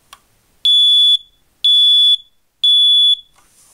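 An ionization smoke alarm under test gives three loud, piercing electronic beeps, each about half a second long and evenly spaced, close to the microphone, after a small click.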